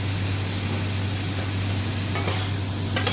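Ground cumin, coriander and turmeric are frying with a large tomato and vegetables in a pan for dalia khichdi, giving a continuous close sizzle over a low hum, with a few short stirring scrapes near the end.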